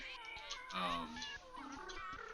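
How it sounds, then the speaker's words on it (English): Cat meows and hisses edited into a song, heard as a close, continuous run of tonal meow-like calls with shifting pitch, layered over faint rhythmic thumps. "I just started messing around with all the different meows and hisses"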